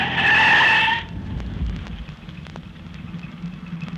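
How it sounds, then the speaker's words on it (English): A car skids straight across a road in a radio drama effect, with a loud tire squeal for about a second followed by low rumbling and scattered knocks as it comes to a stop. "Hang on while I skid this car straight across the road."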